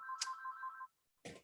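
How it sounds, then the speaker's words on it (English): A telephone rings with a steady electronic two-tone trill lasting under a second, faint and somewhat distant in a quiet room, followed after a short gap by a brief dull knock. "Sorry about the phone."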